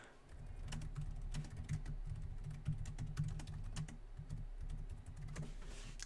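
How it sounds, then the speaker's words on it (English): Steady computer keyboard typing late at night, a continuous run of light clicking keystrokes close up with no talking. "I don't know why I'm typing."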